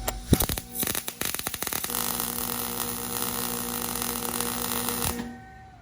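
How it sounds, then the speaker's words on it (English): A welder lays a plate onto a universal handbrake mounting plate in a Corvette drift car. It opens with sharp stuttering crackles, then settles into a steady, loud buzzing hiss for a few seconds and cuts off abruptly. "now we're gonna weld this plate on top of the Drift HQ universal plate"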